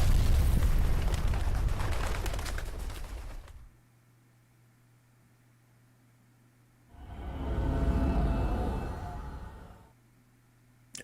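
Explosion in the video game Fate/Grand Order: a loud broadband boom for about three and a half seconds, a quiet gap, then a second rumbling blast swelling and fading, with no talk.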